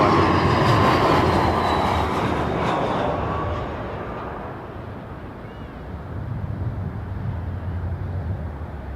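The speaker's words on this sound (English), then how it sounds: "Airbus A330 in the Star Alliance livery for Air Canada" Air Canada Airbus A330 airliner in Star Alliance livery arriving from Bogota at Toronto Pearson Airport, a loud broad jet roar that is strongest at first, then settles into a steady lower rumble as the aircraft passes.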